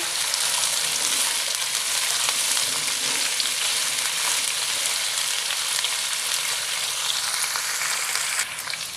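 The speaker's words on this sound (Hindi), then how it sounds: "दो तीन मिनट के लिए फ्राई करेंगे।" Cauliflower curry fries in a pan with a loud, steady sizzle that fills the whole stretch without pause, easing only slightly near the end, with no voices.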